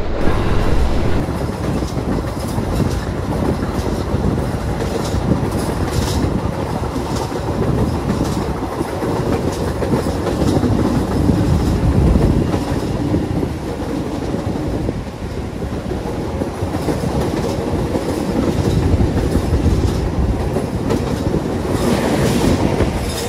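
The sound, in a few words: New Image train carriage rattling and jolting at speed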